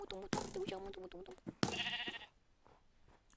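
A sheep bleats in a video game, with two loud wavering bleats in quick succession, the second cutting in sharply, then quieter background game sound.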